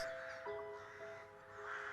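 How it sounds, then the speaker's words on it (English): A crow caws faintly in front of trees as a breeze blows through them, a soft, drawn-out call heard at a distance against a quiet airy background. "I turned around to find a crow in front of the trees that whistled with help from the sudden breeze"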